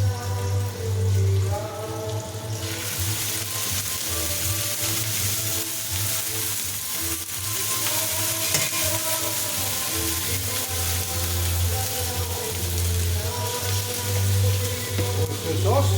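Pork ribs stir-frying in a pan for Filipino ginisang baboy with a steady, loud sizzle that runs throughout, with a faint voice or music underneath.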